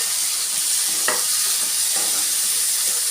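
Chopped medium tomatoes tumble into a pan of cooking onions for egg curry, setting off a steady close frying sizzle with a brief scraping stir near the middle.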